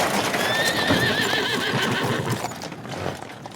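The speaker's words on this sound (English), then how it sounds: "a carriage dashed towards her" A horse pulling a carriage whinnies loudly and long, with hooves clip-clopping underneath and the whinny tapering off at the end.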